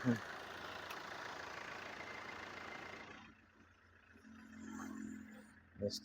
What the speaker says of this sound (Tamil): வண்டி கிளம்பிச்சுங்க